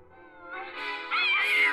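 A cat in The Sims 4 meowing while a dog chases it, one drawn-out, rising and falling meow, clear and close with no other sound around it.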